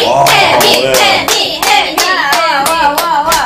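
An audience at an interview with the girl group Fiestar claps steadily to welcome the final member, loud and close, with rhythmic bursts of hands and excited voices mixed in throughout.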